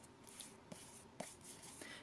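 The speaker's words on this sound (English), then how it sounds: "very easy to shuffle. And you can hear the noise it makes" Matte, unlaminated paper tarot cards of an Il Meneghello Soprafino deck being shuffled, giving soft papery riffles and rubbing with a few sharper flicks across a quiet, close-up stretch.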